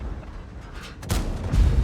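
A deep tank cannon blast in World of Tanks, fired from an Object 260, booms suddenly partway through, loud and close, followed by a rumbling tail.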